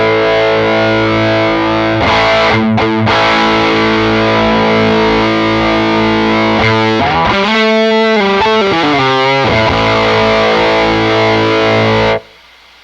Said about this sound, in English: So with the gain up, it starts getting more of the fuzz character